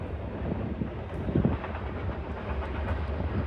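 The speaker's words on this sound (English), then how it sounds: "I pray you forgive the background noise going on. What with trains and grain trucks and all kinds of things." A train rumbles past with a steady low roar and faint clatter, mid-distance, mixed with wind buffeting the microphone outdoors during small engine repair work.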